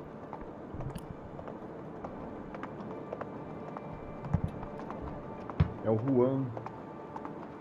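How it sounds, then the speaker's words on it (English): Horse hooves clip-clop in the video game Hindsight as a series of light, scattered knocks under near and fairly loud talk. "Cavalo! Cavalo!"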